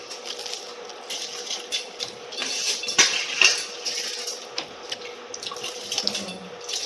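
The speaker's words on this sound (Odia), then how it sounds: "ଚାଉଳ ପଇଲା ପାଣି ପୁରା ଭରି ହେଇଗଲାଣି" Tap water runs into a pot of rice, a steady close splashing and trickling stream with occasional metallic clinks of the pot.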